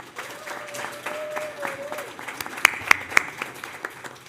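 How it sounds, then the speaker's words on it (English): A crowd at a graduation ceremony claps in a moderate, even patter, with a few sharp, louder claps standing out near the end. A voice is heard faintly underneath. "If we can give them all a round of applause,"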